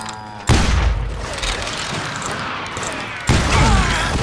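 Loud, close gunfire in the Western shooter Call of Juarez Gunslinger, heavy booming shots with a sharp onset and a ringing tail, a second blast hitting near the end.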